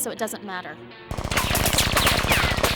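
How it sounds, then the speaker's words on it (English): Rapid machine-gun fire bursts out in a dense, loud, evenly spaced stream in an animated action scene, following a line of dialogue. "Who's shooting at us?"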